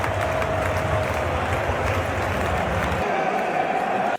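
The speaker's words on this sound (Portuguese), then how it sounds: "Olha como a torcida recebe o Endrick." A football stadium crowd cheers and applauds Endrick after his goal, a thick, continuous roar with scattered clapping that partly drops away near the end.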